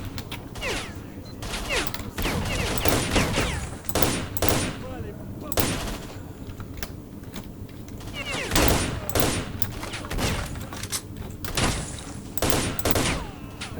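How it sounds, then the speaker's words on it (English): Gunfire from a weapon in Stalker: Shadow of Chernobyl, with repeated bursts of sharp shots in clusters across the span, loud and close, with a voice speaking between some bursts. "As you can see, this gun is phenomenal."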